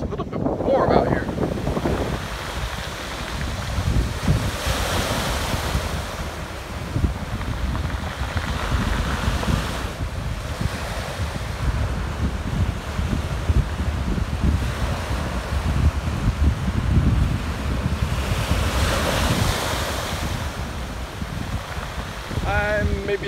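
Sea waves and wind along a shoreline at the western tip of Honshu make a steady, loud wash with gusts rumbling across the microphone, swelling now and then, with no voices.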